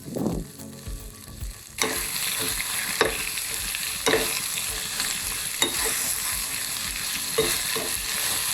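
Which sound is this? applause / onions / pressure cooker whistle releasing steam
onions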